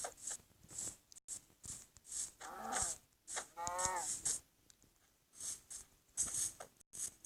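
A blocky Minecraft cow moos twice in low drawn-out calls, close and clear, between repeated short bright clicking game sounds.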